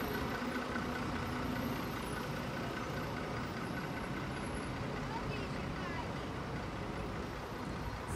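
A replacement bus pulls away from Wisła Uzdrowisko railway station, its engine giving a steady, moderately distant rumble throughout with no distinct peaks.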